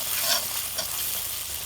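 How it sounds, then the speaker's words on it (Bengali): Spice masala cooks down in a little water in a pan for fish balls, making a constant bubbling sizzle with faint stirring scrapes, close by and without any voice. "এভাবে 2-3 মিনিট আমি পানির মধ্যে মশলাগুলোকে কষিয়ে নিলাম।"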